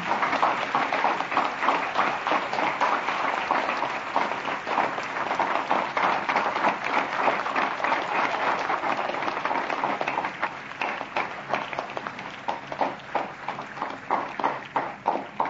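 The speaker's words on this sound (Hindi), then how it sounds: "आप सभी से अनुरोध है तालियों से उनका स्वागत करें।" A large audience gives sustained, dense applause to welcome Prime Minister Modi at a Teacher's Day event with students, loud and even throughout and thinning slightly near the end, with no speech.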